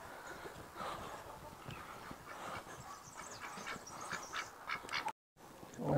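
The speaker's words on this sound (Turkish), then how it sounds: "Böyle ördeklerin görüntüsüyle." Ducks quack on and off against a noisy outdoor background, some calls close and others farther away, with a brief gap near the end.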